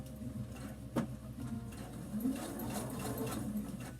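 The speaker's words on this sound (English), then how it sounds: "you're just going to sew just a straight stitch, regular old straight stitch, until you get to your pivot point" A sewing machine runs a plain straight stitch on fabric, its needle mechanism chattering in a fast, steady mechanical rhythm with a low motor hum, close and continuous.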